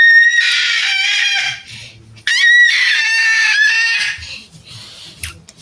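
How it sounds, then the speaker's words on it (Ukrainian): A young child screams at home, two long, shrill, loud outbursts close to the microphone, separated by a short breath, with faint background sounds between. "І поэтому він кричить."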